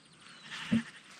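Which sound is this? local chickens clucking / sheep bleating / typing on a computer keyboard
sheep bleating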